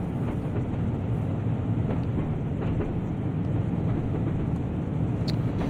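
A train in Train Sim World rumbles steadily along the rails, a dense continuous low roar with faint rhythmic clicks and a constant high whine, heard from inside the train.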